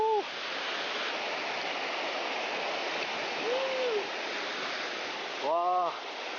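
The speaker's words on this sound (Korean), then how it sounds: "와, 저쪽 폭포 보세요." Steady broadband roar of a waterfall in Jirisan's Chilseon Valley, loud and continuous throughout, with brief voiced exclamations from people breaking in over the rushing water.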